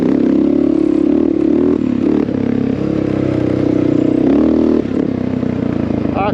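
A Honda XR650L dual-sport motorcycle thumps along under a loud, steady engine drone with gear-shift dips and surges of throttle, recorded close up with constant wind and road rumble.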